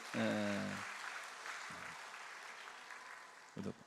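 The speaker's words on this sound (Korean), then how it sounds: "우리 박수로 한번 축하해 주세요." A church congregation at a Sunday worship service applauds to celebrate the birth of twins, a steady wash of clapping that holds for a few seconds between brief bursts of a voice at the start and end.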